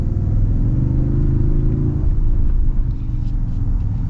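A 2024 Toyota Tundra's iFORCE engine accelerates from inside the cab, a loud, steady low engine drone whose pitch rises gradually and then levels off.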